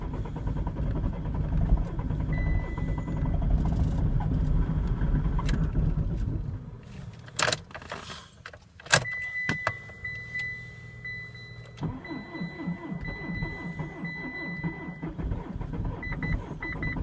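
A Peugeot 4007 diesel is cranked at minus 31 degrees: a long, loud labouring starter and engine churn, then a pause with clicks and a high whine, then the engine catches and runs in a rough, uneven idle.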